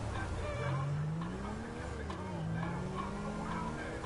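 Police patrol car driving in GTA Online, a steady engine drone with rising and falling pitch sweeps and some tire noise, heard under someone talking throughout.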